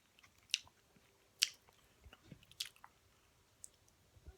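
Close, quiet chewing of crunchy honey butter biscuit chicken tender strips from Church's Chicken, with several sharp crisp bites and softer mastication sounds in between, no talking.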